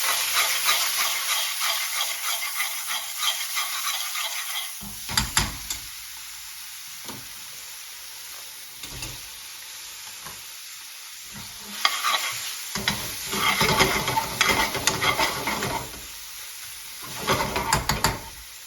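Spices and tomato ketchup frying in a hot pan, a steady bright sizzle and hiss broken by bursts of stirring and scraping, close-up and moderately loud, with no one speaking.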